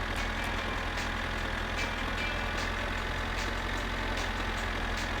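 A tractor engine runs in the video game My Summer Car, a steady low droning rumble with faint periodic ticks, continuous and without talk.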